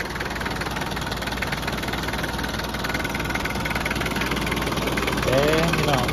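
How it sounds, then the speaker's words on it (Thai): A Nissan Big-M pickup truck engine idles steadily with a low, even rumble and slight knock, and a voice speaks over it late on. "เอ๊ะพี่น้องฟังเสียงเครื่องเรานิ่มอยู่ด้วยนี"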